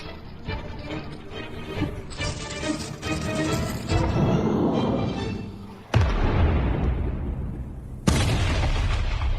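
Suicide skeletons blow up in a necromancer video game, a dense run of booming blasts and crackling bursts followed by two sharp, loud explosions near the end, with no talking.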